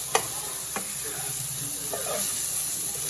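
Mutton burger patties frying in a pan, a steady close sizzle with a few sharp clicks as they are flipped and pressed down.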